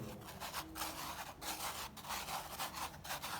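Several kinds of sand mixed together by hand, a steady grainy rubbing and rasping with soft rhythmic surges, close and fairly quiet, with no talking.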